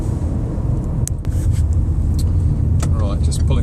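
A 2011 Citroen C4 Grand Picasso 1.6 HDi VTR+ diesel drives along, its engine and road noise a steady low rumble from inside the cabin, with a voice talking over it.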